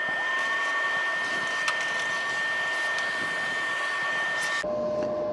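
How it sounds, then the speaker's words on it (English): A small vacuum cleaner sucking dust out of equipment, a steady whining motor hum with a high tone that suddenly drops and changes pitch near the end as the nozzle shifts. "I think I'll just get the little vacuum and suck it out"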